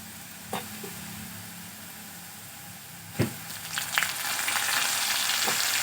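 Chopped tomatoes fry with onions in a pan for a Bengali mustard bhola fish curry, a steady close sizzle broken by a few sharp knocks and scrapes of stirring, the frying growing brighter toward the end.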